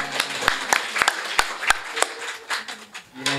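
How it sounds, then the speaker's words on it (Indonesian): Audience clapping at the opening ceremony of an entrepreneurship training program at Modesta Education Center, a scattered run of sharp claps with some faint murmuring underneath. "Lanjutin tepuk tangannya"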